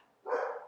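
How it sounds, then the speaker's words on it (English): A single short dog bark or yelp, fairly close, rising suddenly out of quiet and fading over a fraction of a second. "sorry about the dog."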